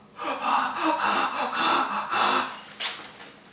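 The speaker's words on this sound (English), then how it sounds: "Can't you see how terrified I am? I'm heavily breathing." Heavy, fearful breathing and loud gasps, performed as an exaggerated act of terror, run in close, continuous bursts for most of the clip, then a short sharp intake near the end.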